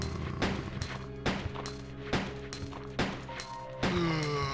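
Gunfire aimed at zombies in the video game Resident Evil 2, about five sharp, punchy shots at roughly one-second intervals laid over a droning, tonal game soundtrack.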